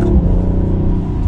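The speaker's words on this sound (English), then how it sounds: "So then in third gear, we'll give it a little bit of gas and feel it out." A 2021 Audi RS5 Coupe pulls under light throttle in third gear, a steady, close engine drone with a deep rumble throughout the short stretch, no voices.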